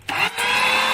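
A smart electric meat grinder switches on and runs with a loud, steady motor whine and buzz, close by, with a brief dip right after startup.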